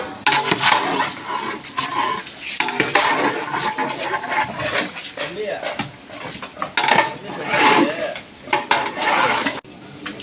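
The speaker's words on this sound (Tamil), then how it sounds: "கிண்டி விடுவா கிண்டி விடுவா கிண்டி கிண்டி கிண்டி" Mutton biryani being stirred in a large pot for a 25 kg batch, with scraping and clanking of a utensil against metal, repeated and close, while voices talk over it.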